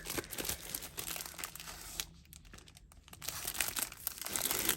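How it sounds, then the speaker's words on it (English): Plastic packaging on a scrapbooking kit crinkles and crumples up close in steady rustling handling, with a short quieter pause midway. "Let's go ahead and open this up."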